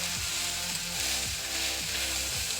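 Steak searing in a hot pan, a constant bright hiss and sizzle with a low, repeating hum underneath, with no talking.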